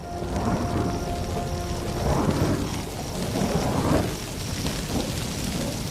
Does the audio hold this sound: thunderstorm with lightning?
yes